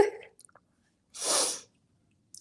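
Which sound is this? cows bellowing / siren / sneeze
sneeze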